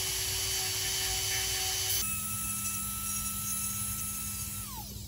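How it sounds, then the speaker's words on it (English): A small high-pitched rotary power tool grinds cured repair material on a ceramic piece, whining steadily up close and shifting pitch partway through before winding down. "There are some imperfection parts that I need to grind off."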